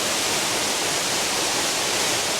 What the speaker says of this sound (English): so I've made it to this waterfall